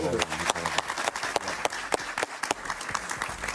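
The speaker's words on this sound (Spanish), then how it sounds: "Un aplauso para Javier" A studio audience applauds a guest on an interview show, with dense, lively clapping that carries on for several seconds at a fairly close, steady level.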